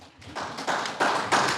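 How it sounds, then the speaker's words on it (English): A small audience at a prop-making and cosplay workshop gives soft, scattered clapping that comes in a few quick rhythmic bursts, fairly close and quiet. "More applause!"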